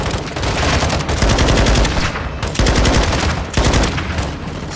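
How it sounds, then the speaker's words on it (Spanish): Sustained machine gun fire in Call of Duty: Modern Warfare 2 campaign, loud and close, with dense rapid bursts running nearly continuously and brief pauses around the one- and three-second marks. "Me pillo la ametralladora"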